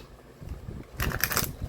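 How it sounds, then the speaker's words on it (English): A deck of tarot cards is shuffled by hand: a soft riffle and rustle, then a brighter, busier flutter of cards lasting under a second, close and fairly quiet. "Shuffle it one more time."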